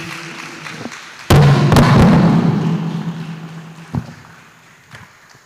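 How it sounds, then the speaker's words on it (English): A microphone falls at a university course launch, hitting the floor with a sudden loud thud and rattle, then a long ringing, fading rumble, with a smaller knock a few seconds later. "Because the clap was not loud, that's why the microphone fell."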